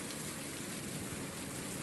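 Rain in the Roblox F2 racing game at a South Korea circuit, a steady broadband hiss of falling rain, faint and continuous, with no voices.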